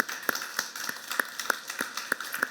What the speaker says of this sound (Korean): 우리를 승리케 하시는 주님께 박수로 영광을 돌립시다